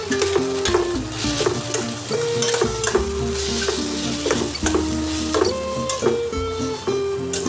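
Ground black pepper and spices are stirred in a frying pan for a Bengali-style vegetarian spinach curry, with steady sizzling and repeated scraping strokes over a sustained tonal background.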